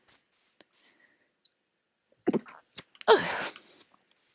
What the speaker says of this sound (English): Excuse me, I'm sneezing.